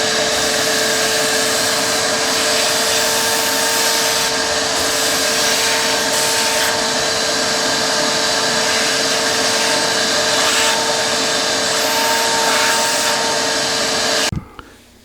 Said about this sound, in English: just take my shop vac and just vacuum out everything in here